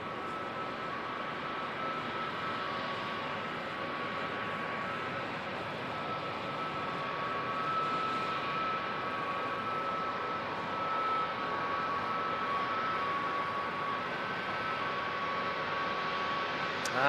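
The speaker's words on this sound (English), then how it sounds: "So NZ147 A321neo, this one will be heading off to Brisbane." An Air New Zealand A321neo jet departs Auckland Airport in foggy conditions, a steady broad distant engine roar holding level throughout with a faint high whine and no voices.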